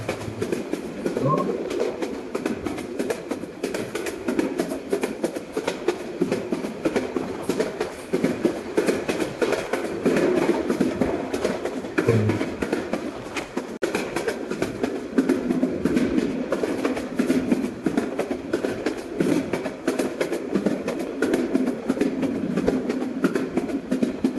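A train in the Train Simulator Bangladesh video game standing at a station: a steady rumbling idle with clanking and scattered bird-like chirps, continuous and fairly loud with no talk.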